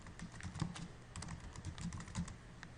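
Rapid, uneven clicking of keys on a computer keyboard as a short closing phrase is typed, close and fairly quiet, with no talking.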